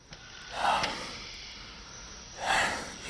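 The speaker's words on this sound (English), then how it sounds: "You lay there on your deathbed, gasping for each breath." Two sharp, breathy gasps a couple of seconds apart, close and fairly loud, with quiet hiss between them.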